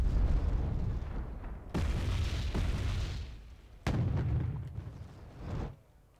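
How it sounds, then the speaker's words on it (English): Video game artillery from 2S1 Gvozdika guns shelling a forest line in a Kursk battle scenario, with deep rumbling booms and two sharp heavy impacts over a continuous low roar of distant explosions. "I started shelling the shit out of it with my Gvoznikas"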